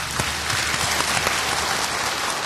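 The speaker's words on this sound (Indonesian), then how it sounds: "terima kasih, tepuk tangan buat Dr." A television studio audience claps for Dr. Dimas on a health talk show, a dense, even burst of applause close by that holds steady throughout, with no voices over it.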